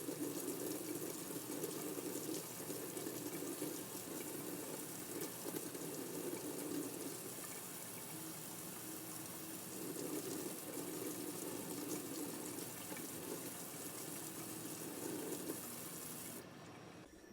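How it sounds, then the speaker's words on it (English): Running water with rhythmic scrubbing as an old toothbrush cleans the knobs of a 1961 Heathkit FM-4 FM tuner, a steady close wash of sound with repeated brushing strokes, no talk. "The knobs were cleaned with an old toothbrush and water."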